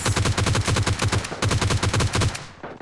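Automatic gunfire in PUBG Mobile Lite, loud close rapid bursts in two rhythmic volleys, then a brief fading tail.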